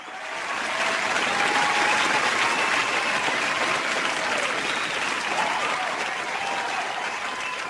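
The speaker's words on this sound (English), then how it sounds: "He paused for an energetic round of applause." An energetic round of applause from a crowd swells within the first second and holds as dense, even clapping throughout, loud and continuous.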